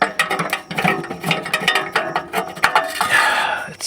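A socket wrench with an extension works a starter bolt on a C4 Corvette, giving close, rapid ratcheting clicks and metallic knocks in uneven bursts, with faint talking underneath.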